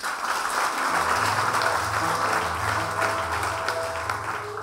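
A church congregation applauding the Lord, a dense, sustained wash of clapping that holds steady throughout over low, sustained musical tones.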